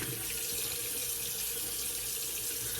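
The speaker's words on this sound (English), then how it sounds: "So let me rinse this off and we'll finish up." Shaving gear is rinsed under a running water tap, a steady, loud, close rush of water that pours without a break and with no talking.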